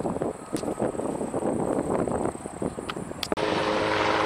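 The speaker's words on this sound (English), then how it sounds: "Got a helicopter flying right over us." A helicopter passes overhead at a Civil War battlefield in Virginia, its rotor chop a steady, moderately loud rumble under wind noise, with a sharp click near the end.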